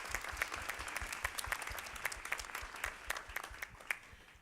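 Audience applause at a panel discussion event, a fairly faint, steady patter of many hands clapping at a distance for a few seconds, with no voices on top.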